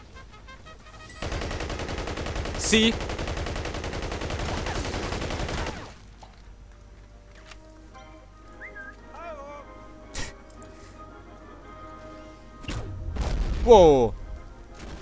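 Gunfire from the video game Battlefield Heroes bursts in loud, dense volleys for several seconds, then a few single shots and another loud burst follow, with someone speaking briefly between them.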